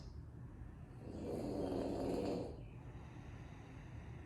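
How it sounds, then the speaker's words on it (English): A small dog snores softly, one slow drawn-out breath swelling and fading against a quiet room hum. "You may hear my little dog Harper snoring."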